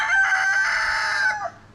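A rooster crows once, loud and close, in a single drawn-out call among a flock of chickens, with no other sounds around it.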